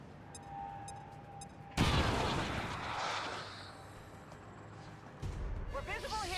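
A grenade detonates in the turn-based strategy game XCOM 2, a sudden loud boom that decays into a long rumbling tail, followed by further battle noise and synthetic effects, with players talking over the game.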